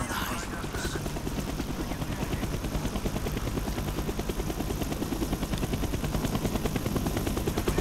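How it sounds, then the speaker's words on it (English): A helicopter circles in the Black Ops 1 campaign, a steady rapid rotor thumping held at moderate distance throughout, with faint gunfire-like crackle mixed in. "The chopper is coming around again."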